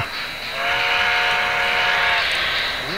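Model train whistle at a model railroad festival, a sustained harmonic steam-style whistle tone holding steady for most of the stretch, loud and close, with no talk over it.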